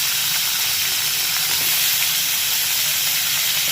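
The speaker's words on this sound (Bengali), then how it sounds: "এইবার এগুলোকে ভেজে নেবো ভালো করে" Bitter gourd and pumpkin frying in a pan give off a steady, dense hiss and sizzle, close and constant throughout with no talking.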